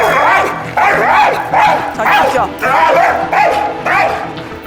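A dog at home gives a series of odd, strained yelping bark-like calls in repeated bursts, loud and close, with a person speaking briefly over them.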